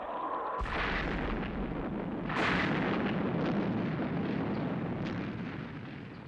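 Missiles launching and exploding in a Thunderbirds puppet adventure: a sustained, roaring rumble of blasts with a couple of sharp bursts swelling over a dense, continuous wall of noise.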